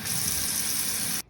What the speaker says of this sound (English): I'm going to fill the sink up with some warm water